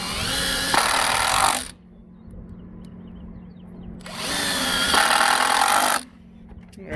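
A power drill drives screws into the wood of a boat outdrive stand in two long, loud whirring bursts, with a quiet pause between them.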